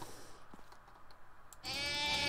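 Sheep bleating in the video game Devil's Share, a sustained harmonic bleat rising loud and close near the end after quieter game noise.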